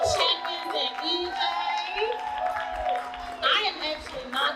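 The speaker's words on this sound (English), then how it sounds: "Can we get another applause for these beautiful Black and Brown champions and eBay?" An audience at an awards ceremony claps and cheers in a sustained burst, with whoops and shouts over dense applause while an amplified voice talks on top.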